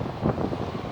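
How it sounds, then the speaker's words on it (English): Steady wind buffeting the microphone, a continuous low rumble with gusts swelling and easing, no voices. "It's a really nice day out. It's just really windy."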